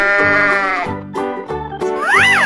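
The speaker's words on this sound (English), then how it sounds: "Sheep." Sheep bleat loudly and close by in several wavering calls, one after another, each a quavering harmonic cry over a low steady backing.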